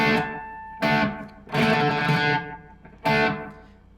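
Electric guitar chords from a Stratocaster through a Friedman Smallbox 50 amp ring out through a delay effect, repeats smearing each strum into a sustained, echoing wash; three or four strums, loud and close.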